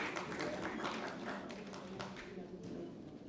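A conference audience at a technical textiles conclave gives scattered applause, heard as faint, uneven claps in a quiet hall that thin out toward the end.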